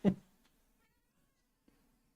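A single short cat meow sounds up close at the start, followed by near silence with a couple of faint small knocks.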